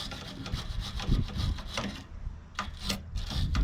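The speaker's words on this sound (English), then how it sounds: "you can get in there with a wire brush" Wire brush scrubbing a leaking aluminum coil ahead of a braze repair, a close, rough scratching in repeated back-and-forth strokes with a brief pause midway.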